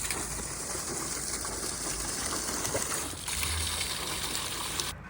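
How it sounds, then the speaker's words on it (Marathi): Irrigation water flows steadily across an onion field in a village farm setting, a continuous close gushing and trickling wash that runs the whole time without any talking. "मस्तपैकी कांद्याला पाणी द्यायचं चालू होतं"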